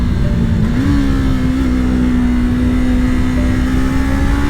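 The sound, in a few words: Yamaha YZF-R3 motorcycle engine revving while riding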